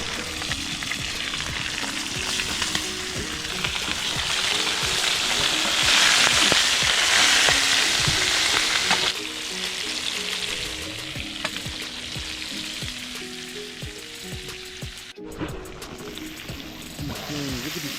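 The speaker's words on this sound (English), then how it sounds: "We got that oil piping hot, ready to go." Shellcracker fish frying in piping hot oil at a river campsite, a loud continuous sizzle and crackle close up with stirring scrapes, while people talk over it at times.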